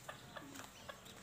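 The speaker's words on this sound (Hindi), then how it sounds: "ये देखिए छोटे छोटे मुर्गी" A few soft, faint clucks from small chickens at irregular intervals over a quiet village outdoor background.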